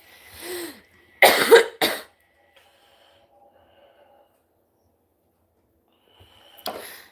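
A person feeling sick gives a few short, harsh coughs and snorts up close, then a long quiet stretch follows before one more brief cough near the end.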